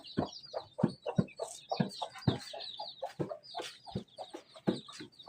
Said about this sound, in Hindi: ये मुर्गी भी उठ के आ गई है।